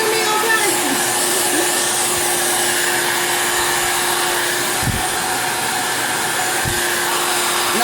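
A blow dryer roars loud and steady at close range while being moved around a plastic-wrapped Christmas gift basket, a constant whooshing hum with a few soft thumps.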